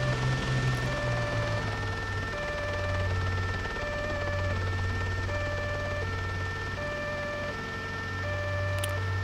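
A helicopter in the video game Arma 3 gives a constant low droning hum under a loud, wailing emergency siren during a chase. No voices are heard.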